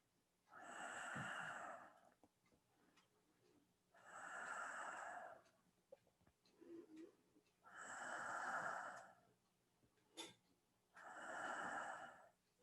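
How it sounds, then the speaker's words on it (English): Slow, deep breaths in a seated qigong session, four long airy inhales and exhales spaced evenly a few seconds apart, close and soft with quiet gaps between. "Inhale, exhale, inhale, and exhale"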